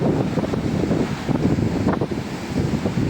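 Strong wind buffets the microphone on a seashore near Diu where big waves surge in, a loud, gusting rumble with a surf-like wash underneath and no voices.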